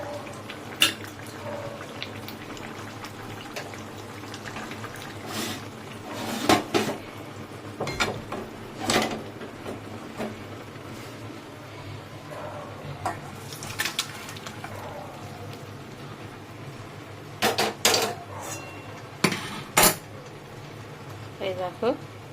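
Fish curry made with black cumin paste poured out of a pot, with scattered metallic clinks of pots and utensils over a low background, pigeons cooing nearby and someone talking in between.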